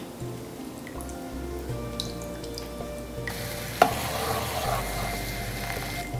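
Sugar syrup with a splash of lemon juice simmers in a pan, giving a steady, quiet bubbling and sizzling hiss with occasional soft clinks.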